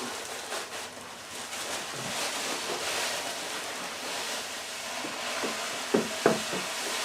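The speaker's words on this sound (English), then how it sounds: "you just want to make sure you keep stirring and get it all mixed up so everything's nice and wet, no dough balls" Malted grains being stirred into mash water with a mash paddle for single malt whiskey, a continuous swishing, sloshing wash with a couple of knocks near the end and no talk.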